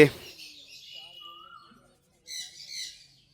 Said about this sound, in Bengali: জেব্রা ফিঞ্চ দেখতে পাচ্ছেন এখানে জাম্বো জেব্রা ফিঞ্চ আছে